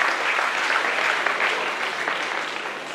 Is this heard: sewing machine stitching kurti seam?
no